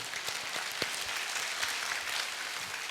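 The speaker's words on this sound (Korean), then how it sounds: "하나님께 영광의 박수" A church congregation at a Korean contemporary worship service applauding, a dense, steady wash of many hands clapping together, sustained throughout without talk.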